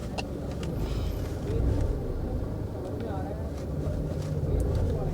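A new Tata Nexon petrol engine idles with a steady, low rumble close by. The hum holds even and swells slightly twice, and there are faint rattles but no clear speech.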